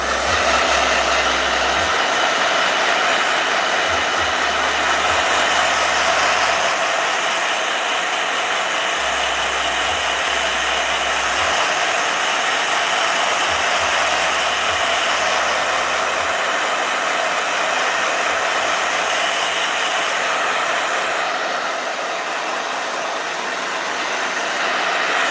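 Blow dryer running continuously at close range, a loud steady whooshing roar with slight shifts in pitch and airflow as it moves, no voices over it.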